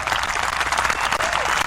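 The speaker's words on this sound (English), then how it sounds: "Nice round of applause for them." Audience applause after a round of applause is called for family members at an Italian-themed show, dense steady clapping filling the whole stretch, close and loud with no talk over it.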